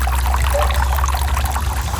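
Water is poured steadily into a garden water dish for bees, a close, continuous splashing trickle that stays even throughout with no talking.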